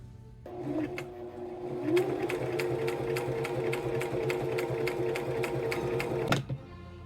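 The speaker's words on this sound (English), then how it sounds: "we're going to go ahead and we're going to sew along the edge" A sewing machine stitches along the edge of a fabric makeup bag, running steadily for about six seconds with a fast, even mechanical clatter and regular ticks before stopping abruptly.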